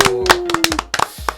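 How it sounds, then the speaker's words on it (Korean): A studio audience claps for a Korean political talk show's opening: a short burst of scattered hand claps alongside speaking, lasting only a moment. "박수."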